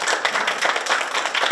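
A lecture audience applauds a hospital pharmacist's talk on polypharmacy, with dense, steady clapping from many hands, loud and close, sustained for the full moment without a break.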